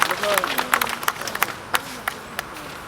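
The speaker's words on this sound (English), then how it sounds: "Can we give him a round of applause?" Audience at a National Assembly open day gives a brief round of applause, with scattered claps fading out over a few seconds while murmuring voices continue around them.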